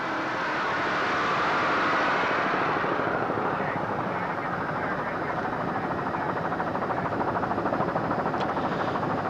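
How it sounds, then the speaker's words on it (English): Three 800 hp C&G Cobra inboard engines drive a Superboat-class racing powerboat during an offshore race, a loud, sustained roar with dense rumbling throughout and a few faint voices mixed in. "Those 3 800 horsepower C&G Cobra inboards are really doing the job"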